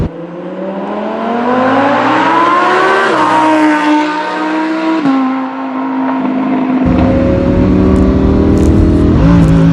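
A Lamborghini Huracan engine pulls hard through the gears, a loud, close, continuous roar whose pitch climbs, drops sharply at each quick upshift, then climbs again, with no talking.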